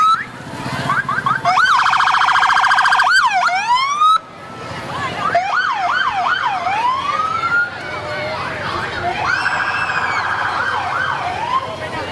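Several emergency vehicle sirens wail and yelp at once during a Christmas parade in Front Royal, loud and overlapping, with rapid electronic whoops and warbling tones continuing throughout.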